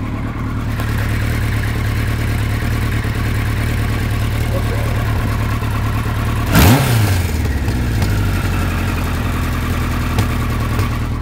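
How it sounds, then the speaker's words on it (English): A Kawasaki KZ1000 motorcycle with a popping fault idles loudly and steadily up close, then gives one sharp throttle blip about two-thirds through before settling back to a rough idle. "I almost feel bad for revving it this much"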